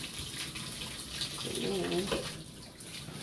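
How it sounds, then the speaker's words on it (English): Shower water runs steadily through the whole stretch as a broad hiss, fairly close, while someone talks over it. "I'm starting the shower so I can get in the shower and get everything get going"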